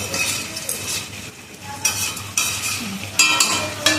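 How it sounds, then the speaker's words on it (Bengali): A spoon scrapes and stirs bhapa biriyani in a pot, with rhythmic scraping strokes and faint sizzling underneath, close and steady throughout. "আবার একটু নাড়িয়ে পাঁচ মিনিটের জন্য ঢেকে দেবো"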